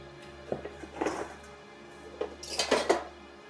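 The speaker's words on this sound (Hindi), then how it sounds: "ये बर्तन धरकाऊं घर में।" Metal utensils, pots and pans clatter and clink in two short bursts as they are handled and put away at home, fairly quiet and close, with no talk.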